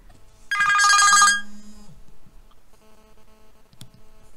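A telephone rings loudly in one bright, trilling burst lasting under a second, followed by a low hum and faint room noise.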